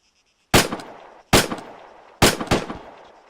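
Three sharp, loud gunshots ring out during personal weapons training, roughly 0.8 seconds apart, each a hard crack followed by a short echoing tail, with no voices between them.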